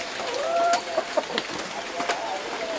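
Native domestic hens at a home coop cluck a few times, with short rising calls and soft clucks over faint background noise.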